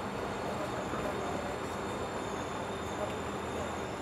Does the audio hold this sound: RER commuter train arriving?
yes